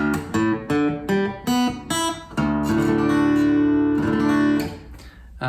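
An electric guitar in drop D tuning chugs a few short riffs on its low string, then lets a heavy chord ring out.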